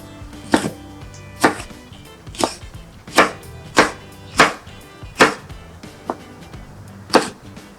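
A knife dicing capsicum on a cutting board, nine sharp, close chops at a steady, unhurried rhythm with short pauses between strokes and no talking.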